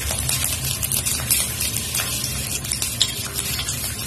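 Garlic and dried red chilies frying in hot oil in a kadhai, a steady close sizzle and crackle with soft stirring scrapes throughout.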